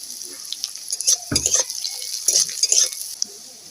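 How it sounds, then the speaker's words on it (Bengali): Onion and green chili stirred in a frying pan for a Bengali greens stir-fry, giving soft scraping and sizzling bursts that swell and fade over a few seconds, close by and moderately loud, with no talk. "এবার কাঁচা লঙ্কা পেঁয়াজ আমি নেড়ে নেব।"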